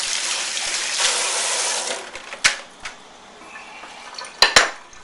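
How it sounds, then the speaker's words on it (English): A hand is rinsed under running water from a kitchen tap while cooking, a steady gush for about two seconds followed by a few sharp clinks of utensils. "I'm going to rinse off my hand a little bit."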